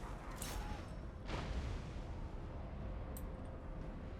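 Cannons fire during a siege battle in Total War: Warhammer at Karak Eight Peaks, with a couple of deep, booming blasts over a constant low rumble of battle noise, fairly quiet overall.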